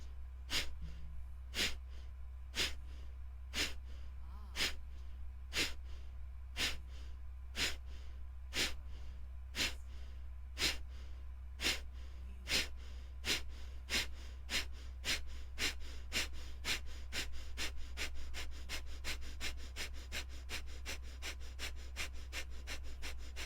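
Rapid rhythmic Breath of Fire yogic breathing, sharp nasal exhalations repeating steadily and speeding up over time, close and clear with a constant low hum beneath and no talking.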